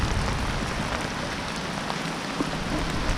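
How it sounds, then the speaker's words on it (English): Torrential rain pours down steadily outside at night in a parking lot during a thunderstorm, a dense continuous hiss of drops drumming on surfaces, with no distinct thunderclap. "Thunder and lightning and torrential downpour."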